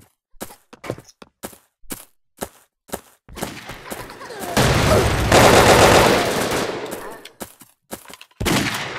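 Automatic fire from the LMG PRO light machine gun in the blocky shooter Brick Force, arriving as a dense sustained burst in the middle of the clip between scattered single shots, loud and close.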